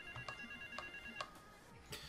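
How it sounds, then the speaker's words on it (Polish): Telephone at a phone booth in GTA: Vice City rings in three evenly spaced bursts of a steady electronic tone, quiet and close, with light street ambience underneath and no talking. "O, już słyszę telefon, dobra."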